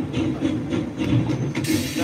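A train rumbles and chugs in the All Aboard slot machine game, a steady, loud rhythmic clatter with a hiss of steam near the end.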